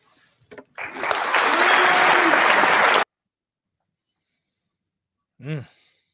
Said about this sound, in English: that was weird, the clapping